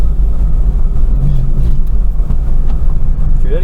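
A Golf's engine runs steadily as the car creeps up onto small ramps, a low continuous rumble close by with no sharp revving.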